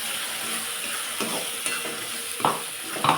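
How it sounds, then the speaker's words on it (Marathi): A spoon stirring a tempering of tomato with a pinch of turmeric in a pan, soft sizzling under a few scraping strokes and light clinks against the pan. "फोडणीमध्ये आता चिमूटभर हळद टाकून घ्यायची पुन्हा असं मिक्स करून घ्यायचं"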